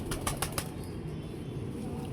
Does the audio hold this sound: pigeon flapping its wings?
yes